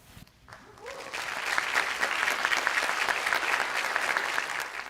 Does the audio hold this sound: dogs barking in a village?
no